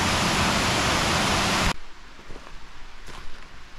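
Water of the River Spodden rushing loudly in a steady hiss, then cutting off abruptly to quieter surroundings with faint knocks and movement.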